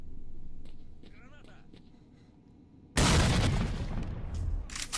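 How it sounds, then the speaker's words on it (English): A grenade blast in the video game Stalker: Shadow of Chernobyl, bursting loud and sudden after a quieter stretch and rumbling on with a broad roar to the end. "this is where I decided to try out the grenade for the first time"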